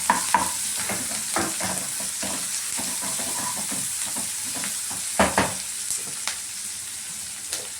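Chana dal crackles and sizzles steadily in a hot pan while being stirred, with scraping strokes and a few louder pops breaking through the continuous frying hiss.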